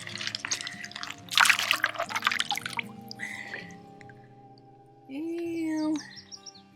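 Water splashing and dripping as a gravel rock is rinsed off on the Yellowstone River, with soft trickles and small splashes near the microphone, birds chirping in the background and a short tonal squeak near the end.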